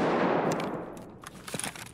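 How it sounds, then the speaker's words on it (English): Rapid burst of video game gunfire in a factory setting, loud and dense at first and then thinning into scattered shots and clatter that fade toward the end, with no talk. "I've literally shot this guy like 5 times."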